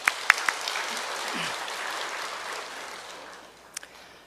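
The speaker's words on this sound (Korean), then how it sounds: "우리 하나님께 영광의 박수 드리겠습니다." A church congregation claps together in a steady burst of applause, near and fairly loud, thinning out toward the end with a few scattered final claps.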